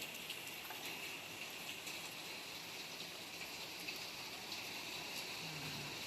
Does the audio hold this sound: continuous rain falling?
yes